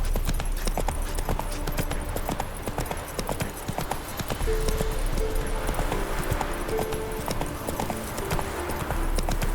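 Roach the horse galloping in The Witcher 3, a fast, continuous clip-clop of hooves at close range with a steady rhythmic pounding and faint ambient game sounds beneath.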